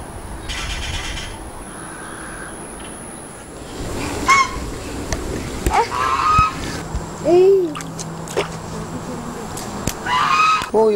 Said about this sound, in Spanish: Uy, los gansos. Ven, ven, vamos a ver. Vamos a ver los gansos.